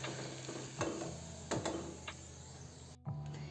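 Crisp fried potato chips being stirred and tossed with chili powder and salt, a few soft scraping and rustling strokes over a steady background hum, with no talking.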